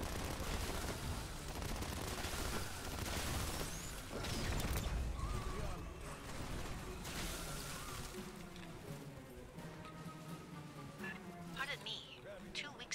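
Rapid bursts of turret gunfire and explosions in a sci-fi alien shooter video game, crackling under a cluttered mix of game effects while a person talks over the action.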